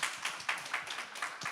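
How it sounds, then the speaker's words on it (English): Audience clapping at the Hong Kong Start-up Fiesta, a steady crowd applause with repeated louder swells, fairly close and continuous with no voices over it. "let's give everybody a big round of applause"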